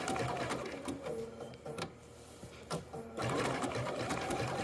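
A sewing machine running a blanket stitch around appliqué letters, its steady mechanical whirr close and continuous with brief pauses and short stitch bursts while the fabric is pivoted.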